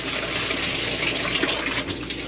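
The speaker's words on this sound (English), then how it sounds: "Do a little rinse, and we'll talk about it." Steady rushing water pours and splashes close by, filling and rinsing a small folding washing machine, a continuous gush with no talking.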